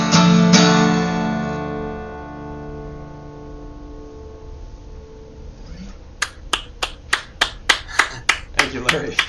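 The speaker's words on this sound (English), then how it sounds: "I'm not the only one clapping." After a fading musical chord, a pair of hands claps in a steady series of about a dozen sharp, close, evenly spaced claps with no talk over them.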